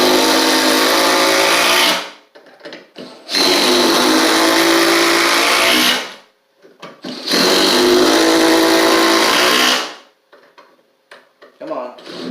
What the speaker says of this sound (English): There's 5 screws with the Oil Impulse